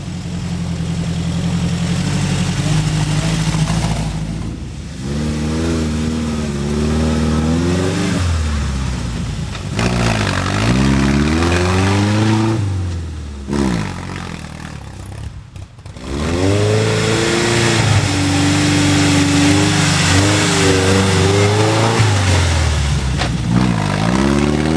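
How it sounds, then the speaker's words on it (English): Modified Land Rover off-road vehicle labouring over sandy dunes, its engine rising and falling in repeated revving surges with brief lulls between, loud and close, with faint talk in places. "How many standard models can scamper over sandy dunes so easily?"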